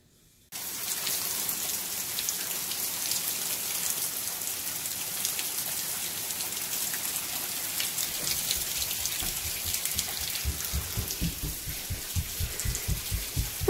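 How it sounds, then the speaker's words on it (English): Steady rain pours down, a dense broadband hiss with scattered drops, joined later by a rhythmic low thumping; no one speaks. "I hear it pouring rain outside"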